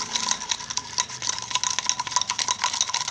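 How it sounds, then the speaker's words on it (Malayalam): A homemade shampoo slime mixture is stirred in a container, producing quick, rhythmic scraping and tapping strokes close by, with no talking. "നന്നായിട്ട് ഇളക്കി കൊടുക്കുക."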